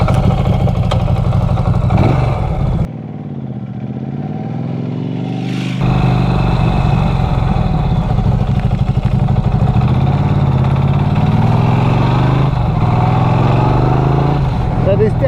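A Norton Commando 961 SP motorcycle engine drones steadily while the bike is ridden, a continuous low rumble with wind and road noise that dips briefly near the start and then holds steady throughout.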